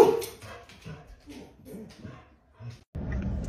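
A dog makes short yips and whimpers, close and moderately loud, in a quick irregular series, followed by a burst of broadband noise at the end.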